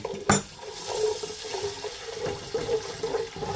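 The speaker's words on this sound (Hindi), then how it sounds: "हल्का सा पानी डाल देती हूँ इसमें" Water pours into a hot pan of frying ginger-garlic spice paste and hisses, a steady splashing flow after a brief clatter.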